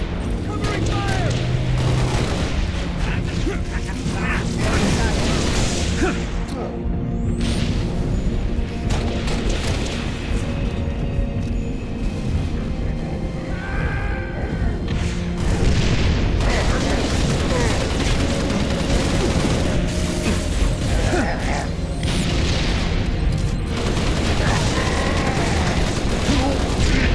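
Halo Reach combat with steady rapid gunfire and booming explosions, with shouted soldier callouts heard over the battle.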